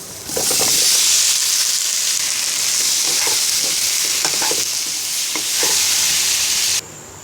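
Lightly boiled raw green banana pieces hit hot oil in a pan for a Bengali fish curry, setting off a loud, steady frying sizzle with scraping stir strokes throughout, cut off just before the end.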